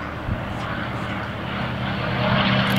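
A P-51 Mustang propeller fighter at an air show runs its engine with a steady, loud, droning roar and deep low rumble, constant throughout with no break.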